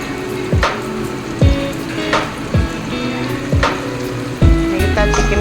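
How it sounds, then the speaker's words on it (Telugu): Marinated chicken pakoda pieces deep frying in oil, a bubbling sizzle broken by several sharp clinks and knocks, likely from utensils, at irregular intervals, with a louder clatter near the end and no talk. "అలానే మిగతా మనం మ్యారినేట్ చేసుకున్న చికెన్ కూడా ఆయిల్లో డీప్ ఫ్రై చేసుకోవాలి."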